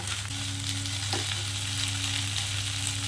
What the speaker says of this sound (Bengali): এটাকে একটু ভাজা ভাজা করতে থাকবো